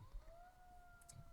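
Emergency vehicle siren passing on a street outside, a faint sustained wail holding a rising and steady tone over low background rumble, heard from a distance.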